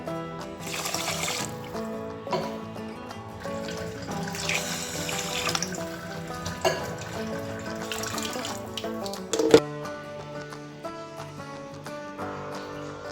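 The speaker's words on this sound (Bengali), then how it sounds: "চালটা আমার ধোয়া হয়ে গেছে, এবার আমি জল দিয়ে দিচ্ছি, নর্মাল জল।" Water pours steadily onto washed rice in a pot while making chicken biryani, a continuous splashing trickle with a few clinks, close and moderately loud.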